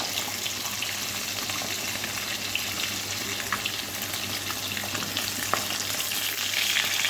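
Steady, crackling sizzle of catla fish frying in hot oil in a pan, continuous and close, with a few sharper pops standing out.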